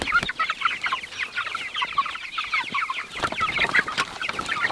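Several chickens cluck and chatter steadily close by, a busy overlapping flock with short calls running throughout.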